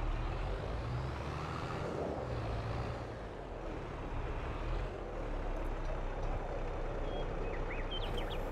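A truck hauling a trailer in Farming Simulator 22, a steady low engine rumble and road noise that dips briefly mid-way, with a faint hiss-like squeal near the end, no talk.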